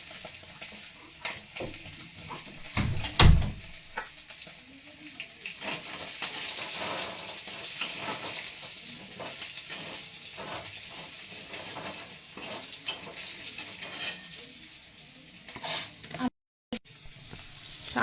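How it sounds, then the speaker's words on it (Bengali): Garlic tempering in hot oil for chilli paneer, a steady broad sizzle and crackle running throughout with occasional stirring scrapes, close and moderately loud, with a brief gap near the end. "তেলটা গরম হয়ে গেছে, এর মধ্যে রসুন ফোড়ন দিয়ে দেব।"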